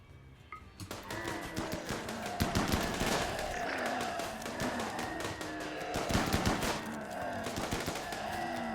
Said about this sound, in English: That chain shotgun really is something to behold.